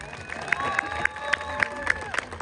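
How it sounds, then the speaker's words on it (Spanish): Crowd applause at a presidents' tournament final in Tecolutla, steady clapping and murmuring with sharp, regular claps standing out over a busy background. "Aplausos para el inspector de Cuautla."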